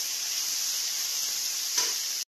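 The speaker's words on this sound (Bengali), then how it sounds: "এটা এবার এইভাবে একটু হালকা দিয়ে ভাজা ভাজা করবো।" Boiled flat beans fry gently in a pan, giving a close, steady, hissing sizzle with a brief stirring scrape near the end before the sound cuts off abruptly.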